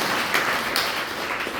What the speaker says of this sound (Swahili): Hebu mpigie makofi dada